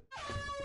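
A vehicle horn honks once, opening with a sharp onset and then holding a steady, brassy, tonal blare at close range for the rest of the moment.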